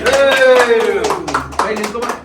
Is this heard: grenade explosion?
no